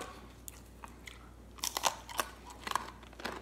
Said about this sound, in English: Can you hear the crunch? I can hear it.